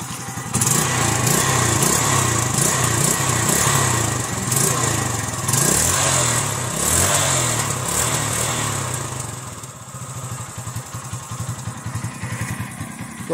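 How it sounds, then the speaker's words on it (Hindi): Exhaust of a 2008 Hero Honda Karizma motorcycle, recorded up close and loud as the throttle is blipped repeatedly, rising and falling revs that drop back to a burbling idle near the end. "अभी आपको इसका एग्जॉस्ट नोट सुनाते हैं"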